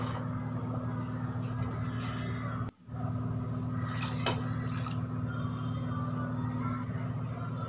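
Water pouring into a pot of mutton kulambu gives a steady liquid rush over a low stove hum. The flow briefly cuts out partway through, then resumes and runs on evenly, with no voices.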